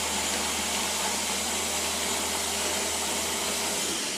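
Blender whirring almonds and water into almond milk, a loud continuous roaring hiss held steady throughout, close and alone.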